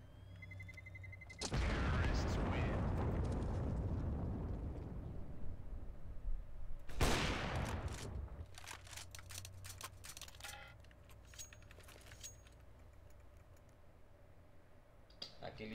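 Gunfire in the video game Counter-Strike: a couple of loud, sharp shots with long ringing decay, followed by quieter clicking and mechanical ticks, with people talking faintly in the background.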